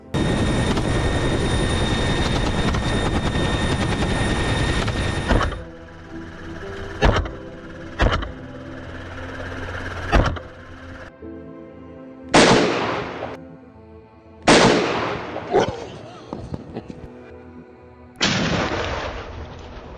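Hunters firing guns from a helicopter, the steady rotor roar loud for the first five seconds, then a run of sharp, separate gunshots with echoing decays, some close and loud, spaced a second or two apart.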